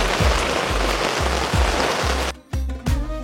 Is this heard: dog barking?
no